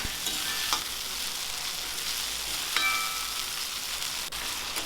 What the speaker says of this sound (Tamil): அதையும் போட்டுட்டு நல்லா மசிகிற அளவுக்கு வதக்கி விட்டுறலாம்